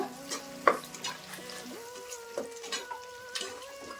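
Spice powders, garam masala, coriander and turmeric, fry in a pot for mushroom pulao, a quiet sizzle under scattered close scraping and clinking stir strokes, with no talk.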